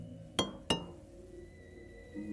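Two crisp clinks against a glass tank containing a sea creature in the video game Crow Country, sharp ringing taps a third of a second apart that decay into a faint hum.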